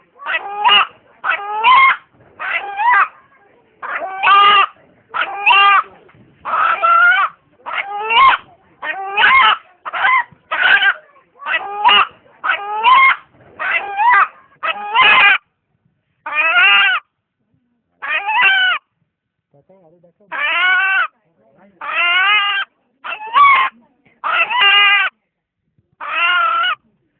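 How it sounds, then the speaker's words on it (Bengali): An eight-month-old rooster crows loud and close, over and over in quick repeated calls with short silent gaps between them. "এখানে উপস্থিত যারা এই মোরগের ডাক শুনলেন"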